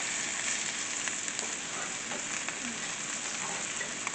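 Bacon-wrapped scallops sizzle and crackle steadily in a hot pan, a dense continuous frying hiss with small pops, heard up close with no talking.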